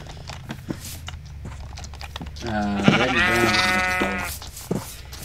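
A Minecraft sheep gives a clear, loud bleat in the middle of the clip, a single drawn-out wavering cry over quiet game background with soft clicks before and after.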